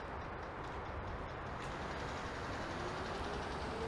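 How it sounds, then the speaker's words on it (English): A steady, loud rumble of a GO commuter train passing through Pickering GO Station nearby, a continuous broadband roar that holds even throughout with no voices. "There goes a GO train passing through."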